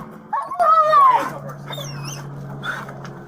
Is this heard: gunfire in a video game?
no